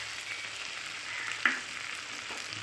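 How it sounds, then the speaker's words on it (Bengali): Paste of ground mustard, poppy seed and green chili sautéing in oil for a fish curry, a soft, even sizzle close by with one brief sharp tap partway through. "তো অল্প করে কষে নিয়েছি সর্ষে, পোস্ত আর কাঁচা লঙ্কা দিয়ে"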